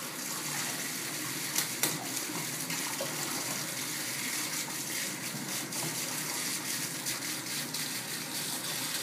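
Bath water gushes steadily from a faucet into a tub, a continuous broadband rush at moderate level with a few small splashes and knocks, heard alone for about nine seconds.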